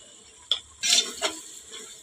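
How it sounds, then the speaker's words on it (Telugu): Chili powder dropped into hot oil in a pan for mutton biryani and boti curry, giving a brief sizzle and sharp scrapes of a spoon stirring, close and fairly quiet. "ఆయిల్లో వేసుకుని వేగించుకోవాలి"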